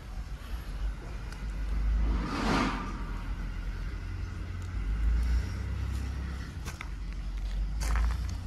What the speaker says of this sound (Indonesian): Lihat, truknya panjang sekali.